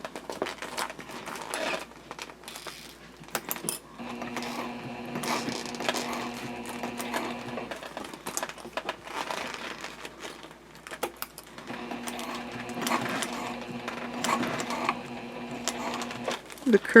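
A sewing machine stitches jelly vinyl for a pouch in two long humming runs of rapid needle clatter, separated by quieter handling and crinkling of the vinyl, with a voice talking at times.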